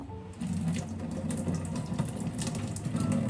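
Tap water runs steadily into a sink while something is rinsed under it during cake baking, a continuous close splashing rush with no talk.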